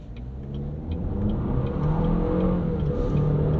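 A 2022 Cadillac XT4 SUV accelerates at half throttle, its engine droning and climbing steadily from inside the cabin, with a continuous low road rumble and no talk.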